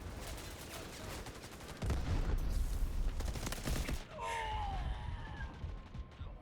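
Gunfire in the shooter game Delta Force, dense rapid bursts and volleys of automatic shots crackling loudly, then easing into a lower rumble with other game sounds, with no speech over it.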